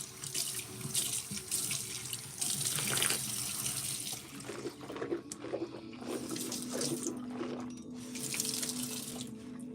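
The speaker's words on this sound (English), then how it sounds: "I'm about to rinse my mouth out." Bathroom tap running steadily into a sink while someone rinses their mouth, a close continuous gush of water with splashing and a few shifts in flow.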